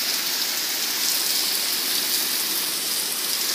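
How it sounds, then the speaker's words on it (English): Heavy hail falling outside: a dense, continuous hiss and patter of countless stones striking surfaces, steady and fairly loud with no talking. "Yeah, this is really bad hail."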